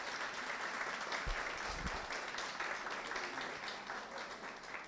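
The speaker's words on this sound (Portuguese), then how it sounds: "Uma salva de palmas para essa mulher querida de Jesus." A church audience applauds a woman called forward, a dense, steady wash of clapping from many hands throughout, moderately distant and even, with a couple of low thumps early on.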